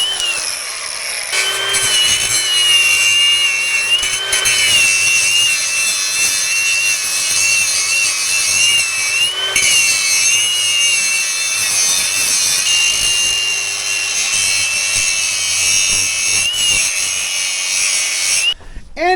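An angle grinder works steadily on cracked welds on a Nissan crawler, a loud sustained high-pitched whine with gritty metal grinding beneath, running almost unbroken for about nineteen seconds with brief dips and a sudden stop.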